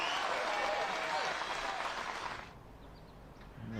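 Crowd applause at a disc golf world championship, broad and loud, fading out after a couple of seconds with a few voices rising near the end.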